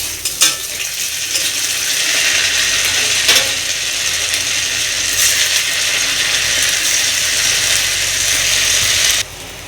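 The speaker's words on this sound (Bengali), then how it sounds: "এগুলো আমি এবার একটা একটা করে দিয়ে ভেজে নেব।" Jackfruit seeds drop into hot mustard oil and fry with a loud, bright, constant sizzle and crackle, starting with a few splashes and cutting off sharply near the end, close up and without speech.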